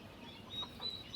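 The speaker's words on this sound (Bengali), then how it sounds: "এগুলো হচ্ছে যে ব্রাহ্মা মুরগি আমাদের।" Brahma chickens on a farm: a few soft clucks and short calls, faint and somewhat distant over low background noise, no talking.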